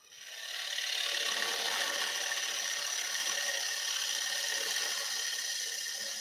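A woodturning lathe roughs out the outer perimeter of a wooden bowl, the gouge producing a steady, close, continuous rasping hiss of cutting wood that holds at an even level after a quick start, with no talking.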